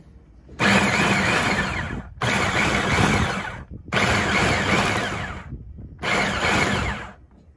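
A blender runs in four loud bursts of about a second and a half each, whirring as it purees okra for a Wolof-style kanja soup, with short silent gaps between pulses and no talking.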